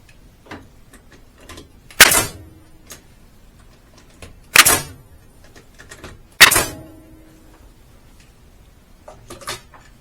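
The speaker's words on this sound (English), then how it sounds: "just go ahead and staple them" A staple gun fires into cedar boards of a DIY flower box. Three sharp, loud cracks come a couple of seconds apart, followed by a fainter fourth, with quiet handling noise between them.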